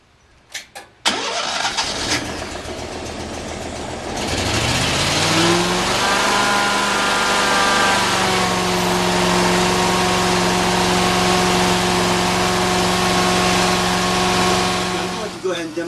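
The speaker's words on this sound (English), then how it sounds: "I'm going to go out and fire up the truck." A truck engine cranks with a few sharp clicks, catches and starts, rising in pitch, then settles into a loud, steady idle that runs until it cuts off at the end.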